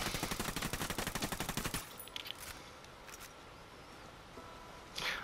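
Rapid automatic gunfire in the video game Ghost Recon Wildlands rattles in a fast, even burst for under two seconds, followed by a few faint clicks and a short rush of sound near the end, with no talking.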